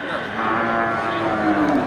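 A cow lows in a long, loud, droning moo at a busy livestock market in Geurugok, the call steady and close against faint background bustle.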